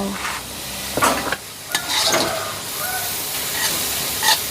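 Beef stir-fries with holy basil leaves in a hot pan, bursts of loud sizzling and clattering stirring strokes rising and falling over a constant frying hiss.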